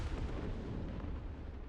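Cannon fire in the Trailmakers game during a weapon destruction test, a dense booming blast with rolling low-frequency rumble that fills the whole moment.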